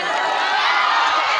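A large audience at a live music and comedy show claps and cheers loudly in a dense, continuous wash of applause with shouts mixed in.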